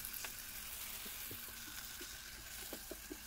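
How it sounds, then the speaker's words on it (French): Onions and chili pepper fry in an electric hot pot with a quiet, steady sizzle, joined by scattered light scraping and stirring taps, and no talk over it. "là les oignons et le piment sont bien grillés"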